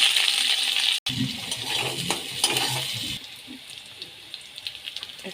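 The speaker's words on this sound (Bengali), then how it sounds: "এই তেলটা গরম হয়ে গেছে তেলে ফোড়ন দেব এই যে গোটা জিরে শুকনো লঙ্কা পেঁয়াজ কুচি" Whole cumin, dried chilli and chopped onion hitting hot oil for tempering, with a bright crackling sizzle that fades to a softer hiss, plus a sharp clink and light stirring scrapes.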